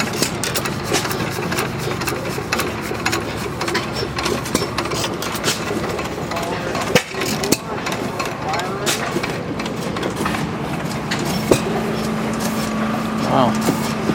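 An antique stationary engine idles slowly at an engine show, its steady low chugging running throughout amid outdoor crowd noise and nearby talk.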